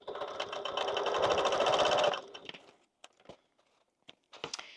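A sewing machine runs a fast, steady reinforcing seam through the seam allowance of a beginner's zippered bag with a handle and boxed corners, loud and close for about two seconds, then stops, followed by a few faint handling clicks and rustles.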